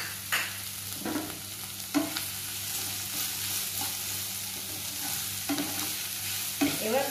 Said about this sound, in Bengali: এবার পুরোটাকে আমি হালকা ফ্রাই করে নেব